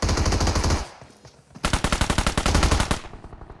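Automatic gunfire in PUBG Mobile on the Erangel map, played on an iPad Pro: two loud, close bursts of rapid shots, the second with distinctly separated rounds, broken by a short, quieter pause, with no talking.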